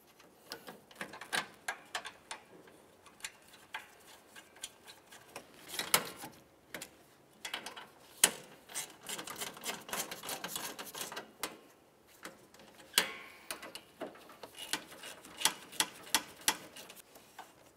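Hand-tightening radiator mounting bolts on a 2012-2017 Toyota Camry: close, irregular metallic clicks and ratcheting ticks in quick bursts with brief pauses, plus sharper knocks scattered throughout, no voices.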